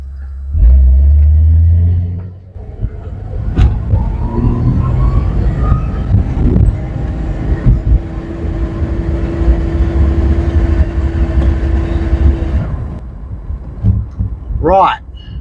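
A 1980s Ford ZL Fairlane with an EFI engine roars loudly under hard acceleration, and a long rising engine note breaks into rumble and road noise before it settles and fades.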